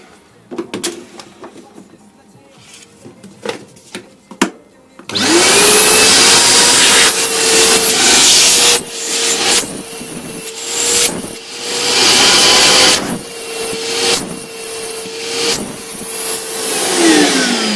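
YATO industrial vacuum cleaner starts up loud and close after some quiet handling knocks, then drones steadily with a high whine, its pitch dipping briefly several times as the intake is blocked or the load changes.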